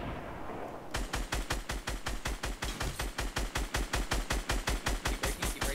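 Rapid automatic gunfire in a shooting video game, a loud close burst of evenly spaced shots that starts abruptly and hammers on without a break, no voices over it.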